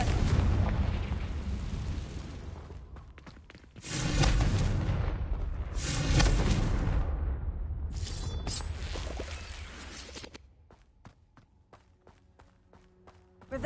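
Booming blasts from a fire spell in a wizarding video game, heavy rumbling bursts swelling twice in the middle, then fading to quieter ambience with sharp clicks near the end.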